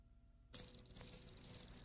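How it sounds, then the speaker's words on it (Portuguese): Crickets chirp in quick, bright repeated pulses that start abruptly after about half a second of silence, then continue steadily and fairly close with no voices. "Grilos e companhia."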